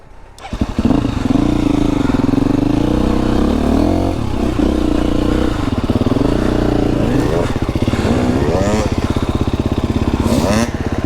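A KTM 350 four-stroke dirt bike ridden through snow without studded tires, its engine loud and close throughout, rising and falling in revs with rapid throttle blips and a steady rough exhaust note.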